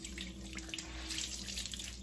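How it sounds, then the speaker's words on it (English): Cool tap water runs steadily into a sink, a soft continuous splashing hiss with faint shifting gurgles as the face is rinsed nearby, alone without any talk. "you're gonna rinse this off with cool water"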